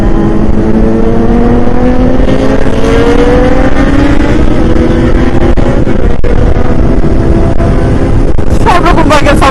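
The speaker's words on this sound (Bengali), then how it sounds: "সব রকম বাইকের সাউন্ড তোমাদের শুনিয়ে দিলাম" Motorcycles, including a Hayabusa and an Aprilia RS457, revving on a group ride, with loud, rising engine whine and wind roar throughout and a sharp higher rev near the end.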